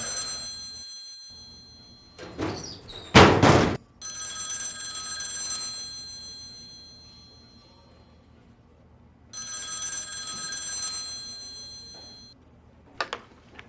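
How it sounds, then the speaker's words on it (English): A telephone rings in The X-Files PC game, loud and electronic, in two separate bursts of repeated trilling rings with a brief clatter between them. "That's your phone."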